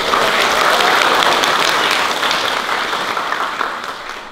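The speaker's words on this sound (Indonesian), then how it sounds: "Kita berikan aplaus" A church congregation gives a steady, dense round of applause for the choir. The clapping is close and loud, then gradually fades toward the end.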